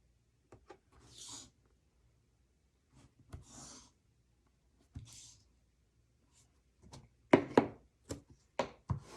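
Tape is pulled and torn against a homemade plexiglass tear tool fitted with a foam dot: a few faint, separate scratchy rips in a quiet room, with quicker, sharper tearing bursts near the end.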